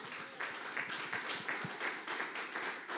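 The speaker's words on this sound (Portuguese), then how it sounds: "Pode aplaudir o Senhor?" Church congregation clapping during a Baptist service, a steady wash of many hands applauding at a faint, distant level, with a few sharper claps standing out nearby.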